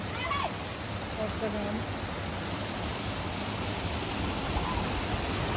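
Cold water from the Kali stream in a village falls steadily from above as a constant rushing hiss, with a person talking over it.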